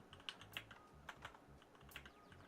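Rapid clicky keystrokes on a computer keyboard, an uneven patter of close taps at a quiet level with no voices.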